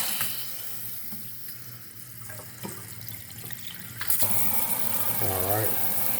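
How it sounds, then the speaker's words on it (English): A newly installed kitchen faucet is switched on partway through, and a steady rush of water pours into the sink and splashes loudly, following quieter handling sounds. "go ahead and test out your faucet"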